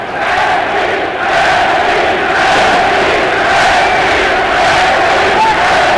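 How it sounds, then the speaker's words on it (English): Sellout boxing crowd at the Festhalle in Frankfurt, Germany, roaring steadily behind their world champion, a dense, loud wall of cheering and shouting that holds for the whole stretch. "The sellout crowd at the Festhalle in Frankfurt, Germany, getting behind their world champion"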